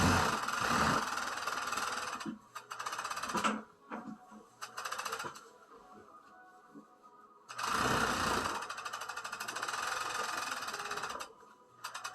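A sewing machine runs in several long, rapid bursts while stitching along a cuff of a pair of bloomers, its buzzing motor close and loud, separated by short pauses and quieter handling sounds.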